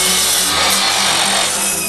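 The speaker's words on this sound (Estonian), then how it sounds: "Kiire pilk joonisele ja saed huugama." Saws cutting through wood during a carpentry competition, a steady, loud, continuous rasping and whirring that fills the whole moment without pause, close by and with no voices over it.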